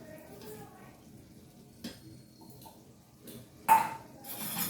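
A spoon stirs chavanu crumbs into bitter gourd curry in a home kitchen pan, giving soft scraping and intermittent clinks against the metal, with occasional louder knocks and light sizzle at low volume.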